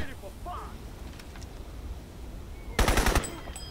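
Gunfire from the PC shooter Crysis: a short, loud burst of rapid shots near the end, following quieter game ambience with some talk.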